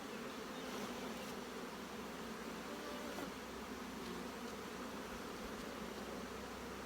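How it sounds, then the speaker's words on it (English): Honey bees shaken down into the bottom hive box during a nectar flow, giving a steady, dense swarm buzz that holds close and even throughout with no talk. "we're shaking the bees down into the bottom box"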